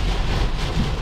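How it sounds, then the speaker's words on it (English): A thunderstorm's heavy rain roars in a dense, steady wash over a deep low rumble, loud and close throughout, with no voices. "No, Babito, this is like a storm."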